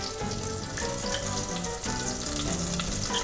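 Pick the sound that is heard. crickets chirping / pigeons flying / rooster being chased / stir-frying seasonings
stir-frying seasonings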